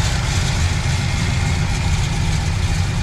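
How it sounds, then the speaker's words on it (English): A 1965 Pontiac Tempest GTO clone with a 455 H.O. V8 idles through dual exhausts, a steady, close, low rumble with an even pulsing throb and no talk. "Dual exhaust sounds excellent. Got the little rumble"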